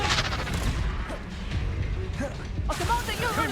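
Confringo blasting spell cast in Hogwarts Legacy, a fiery crackling burst with clattering impacts amid game combat noise, continuous and fairly loud.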